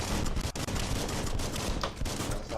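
Rapid gunfire in the video game Biomutant, a dense continuous burst of shots with brief gaps, loud and close throughout.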